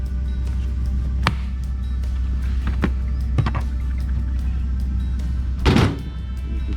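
A ball-bearing tool box drawer slides out and locks in a home shop, giving a few sharp clunks and a louder rolling slide near the end over a steady low hum.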